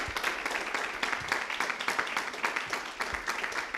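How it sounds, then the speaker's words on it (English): Audience claps at a Key City Pride Week community forum, a fairly faint, continuous patter of many hands with small swells, heard from a distance in the room. "So can we give a round of applause for that?"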